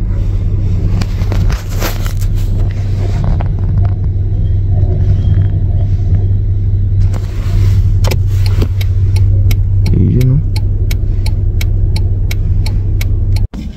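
A truck engine idles with a steady low rumble near a rail construction site, holding a constant drone throughout with scattered clanks and a series of sharp ticks toward the end.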